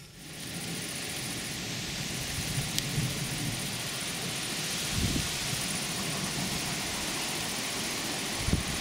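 An evening thunderstorm with steady rain, heard from under an awning: a dense, continuous hiss of rainfall with a couple of low rumbles near the middle and the end, and no voices.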